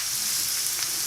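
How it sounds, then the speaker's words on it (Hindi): Ginger garlic paste sautés in hot oil in a karahi pan for Shinwari mutton karahi, a steady, close hissing sizzle with no one speaking. "इसमें मैं अपना जो जिंजर गार्लिक का पेस्ट था ये मैं इसमें ऐड करूँगा और इसको सौते करूँगा।"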